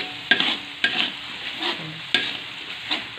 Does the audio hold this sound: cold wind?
no